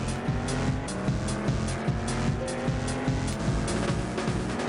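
Cars race and crash in the video game Destruction Derby 64, with a steady droning engine roar, repeated tire squeals and scattered impact thuds running throughout, loud and close.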